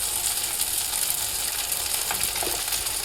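Spice paste with tomato, turmeric, ground spices and cumin powder frying in a pan, a loud continuous sizzle with occasional stirring scrapes near the end.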